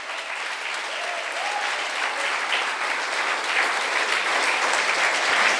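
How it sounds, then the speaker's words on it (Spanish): A church congregation at Iglesia Paz y Vida applauding, a dense, sustained wash of many hands clapping that carries on steadily and swells slightly toward the end. "Dame un aplauso al Señor"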